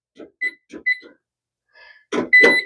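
Oven timer being set for three hours while a pot roast goes in to cook: a few short, soft electronic beeps spaced apart, then two louder, fuller tones at the end, close by with no talking.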